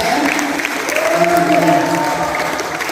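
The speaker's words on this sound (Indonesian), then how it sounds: "Oke, tepuk tangan untuk Mbak siapa namanya?" An audience of students claps during a school orientation event, a dense burst of applause heard under a voice that speaks over it.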